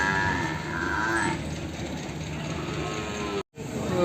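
A buffalo gives a low, drawn-out moo in the first second amid outdoor noise at the Erragadda buffalo market, followed by steady background rumble.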